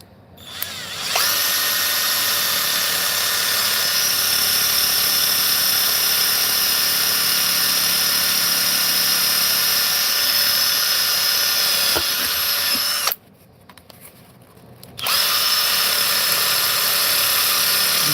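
A power drill bores holes during an opal machine repair, whining steadily and loudly for many seconds, then stopping briefly before starting up again near the end.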